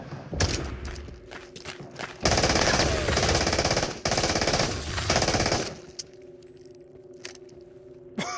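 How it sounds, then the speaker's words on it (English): A PPSh submachine gun with a 70-round drum firing long, loud, rapid bursts in the game Into The Radius, two sustained strings of automatic fire with a short break between, then quiet handling clicks afterward. "The only good SMG that I would advise that you use as your primary for later stages is the PPSH with 70 rounder"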